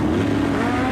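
A 2002 Pontiac Firebird and a Kawasaki motorcycle launch in a bracket drag race at Eddyville Raceway Park, producing a loud, sustained engine roar close by for about a second.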